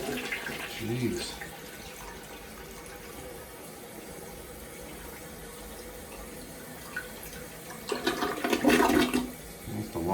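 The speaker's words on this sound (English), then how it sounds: "This one have an old school flush to it." An old-fashioned, large-tank toilet flushes in a long-established hotel room: a long rushing, gurgling swirl of water that swells loudly near the end, with a brief spoken exclamation early on.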